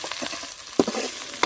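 Curry leaves, green chillies and onion fry in hot oil in a pan for a spicy peanut masala. The sizzle is brief and moderately close, with a sharp crackle and a stirring scrape near the middle.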